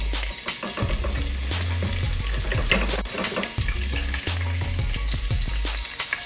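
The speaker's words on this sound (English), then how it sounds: "after putting the oil in, you're gonna need some onions, peppers, tomatoes, 2 green cut chillies" Onions, peppers, tomatoes and green chillies sizzle loudly in hot oil for several seconds, a dense continuous crackle with low clattering stirs.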